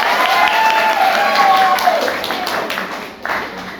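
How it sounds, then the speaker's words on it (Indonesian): Students in a classroom clapping together, a loud, dense round of applause that fades gradually over a few seconds, with a few voices mixed in. "Tepuk tangan dulu kalian."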